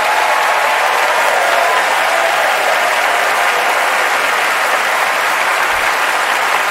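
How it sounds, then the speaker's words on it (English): Oscars ceremony audience applauding the Parasite cast and crew, a dense, sustained wash of clapping from a large crowd that holds steady and loud throughout with no break. "Please send a round of applause to the actors and crew members of Parasite."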